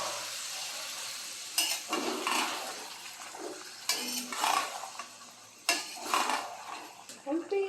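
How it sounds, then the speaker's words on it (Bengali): A chicken curry is stirred and sautéed in a pan with a little water, with repeated scraping and clinking of a spoon against metal over a soft, continuous sizzle, heard close up in uneven bursts. "এই পানিতেই কষানো হয়ে যাবে"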